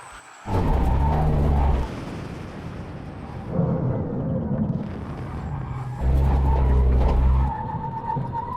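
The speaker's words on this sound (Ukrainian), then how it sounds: "Мені здається, що ваші передні колеса заблокувались." A Bugatti Chiron brakes hard with its front wheels locking, giving loud bursts of tire skid and roar in about three surges, each easing off between them, with no voices.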